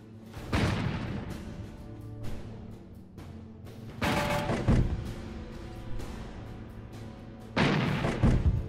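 Stuka dive bombers striking Russian armor in a World War II strategy game, heard as three separated heavy booming blasts, each a loud impact with a rumbling tail, set against a quiet low background.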